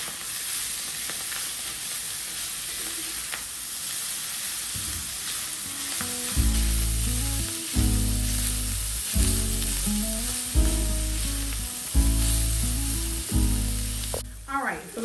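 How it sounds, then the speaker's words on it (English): Ground beef sizzles and crackles steadily in a hot cast iron skillet in a home kitchen. Partway through, rhythmic scraping stirs of a spatula join the loud, close frying, with a hint of voice in the background. "I'm gonna go ahead and add my ground beef back into the cast iron skillet."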